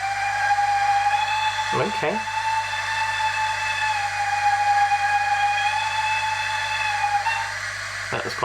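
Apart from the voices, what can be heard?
second whistle sound from Hornby HM7000 model locomotive decoder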